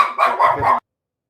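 A dog barks in three quick, loud bursts close by, then silence.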